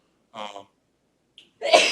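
A single sharp sneeze bursts out near the end, preceded by a short voiced sound and a brief silence.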